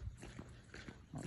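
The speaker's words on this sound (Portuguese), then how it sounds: "Cachorro latindo aí." A dog barks on a street at about 3 a.m. in Guaimbê, Brazil, giving several short, moderately distant barks in an uneven rhythm against quiet night air.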